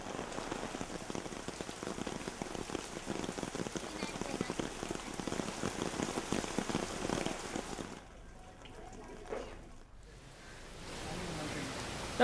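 Heavy monsoon downpour in coastal Karnataka, a dense continuous hiss of rain on surfaces that drops away briefly near the end, then returns more softly.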